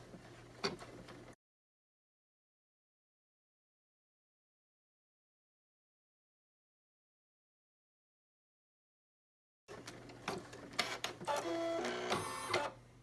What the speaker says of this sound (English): Step 2 is the placement stitch for the applique, and you're going to go ahead and you're going to run it directly on the material you're using for the background.